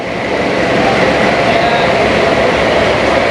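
Loud, steady rumble and rattle from inside a moving Shalimar Express passenger coach of Pakistan Railways, with continuous wheel and track noise filling the carriage.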